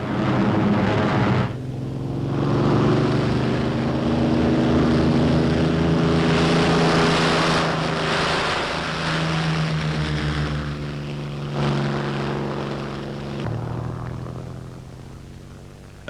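A propeller-driven fighter aircraft engine drones steadily with a throbbing tone. The pitch rises and falls as the plane passes, loud and continuous throughout, then fades slightly toward the end.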